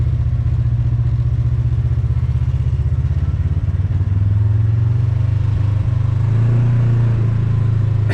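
A quad ATV being ridden, its engine giving a loud, close, steady low rumble with a faint clatter and a slight shift in tone partway through, with no talking.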